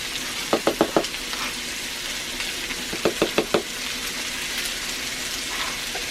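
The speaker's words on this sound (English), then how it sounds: "Lower the heat and throw in the ham." Ham heating in a cast iron pan over lowered heat, a soft steady sizzle broken by two quick bursts of four sharp knocks, close and without speech.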